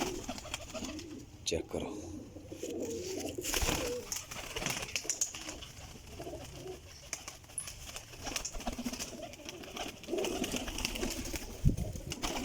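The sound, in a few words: Sialkoti pigeons cooing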